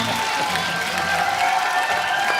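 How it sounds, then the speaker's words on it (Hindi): A studio audience at a comedy talk show claps and cheers loudly and continuously to welcome a guest onto the stage, with scattered voices in the crowd. "जोरदार तालियां स्वागत कीजिए"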